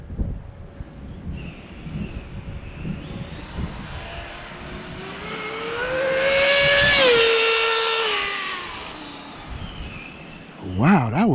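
An Arrma Infraction RC car on a drag-geared speed run screams past, its high electric whine swelling and then dropping in pitch as it passes, while people talk and shout before and after.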